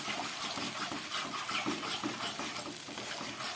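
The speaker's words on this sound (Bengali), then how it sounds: "আরও সামান্য জল আমি এর মধ্যে দিয়ে দিচ্ছি।" Water is poured into a pan of cooked-down masala for a potato kofta and paneer curry, making a continuous splashing, gushing flow with slight fluctuations and no talking.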